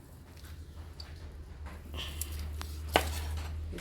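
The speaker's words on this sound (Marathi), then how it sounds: "आतां न्हू तें काडटा आनी स्लायस मारता" A knife slices through roast pork, a few soft cutting strokes followed by a sharp knock of the blade on a board near the end, close and fairly quiet over a low background hum.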